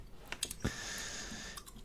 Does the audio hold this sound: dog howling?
no